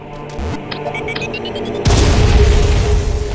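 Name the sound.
power bomb explosion in the video game AM2R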